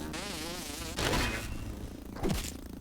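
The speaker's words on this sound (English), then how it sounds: "I can hear a mosquito, but I can't see it." A mosquito buzzing in the video game Grounded, a loud wavering whine near the listener that rises and falls in pitch, broken by a couple of dull thumps.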